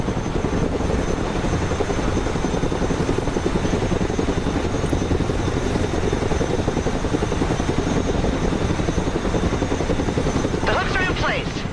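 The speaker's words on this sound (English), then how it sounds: "Let's go pick up this M113 with the Chinook." Rotor thump and engine drone of a Chinook cargo helicopter in the Broken Arrow video game, loud and continuous, flying steadily with a brief rising whine near the end.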